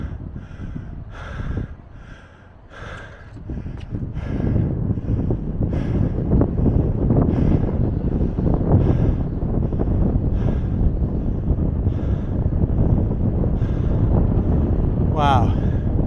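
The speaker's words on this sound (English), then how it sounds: "It is windy." Strong wind buffets the microphone in a steady low roar, with brief gusty breaks and a few faint voice-like sounds mixed in.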